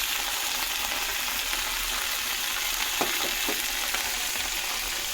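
Potatoes frying in oil in a pan, an even, constant sizzle and crackle held close, with a couple of brief utensil knocks midway and no speech.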